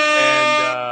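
A loud, sustained air horn blast with rich harmonic tones, dropping slightly in pitch near the end, during a live show.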